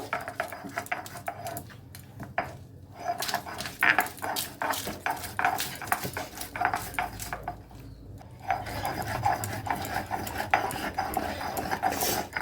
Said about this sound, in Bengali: কাঁচা লঙ্কা আর রসুন আমি সব, আদা সব আমি সিলে বেটে নেব।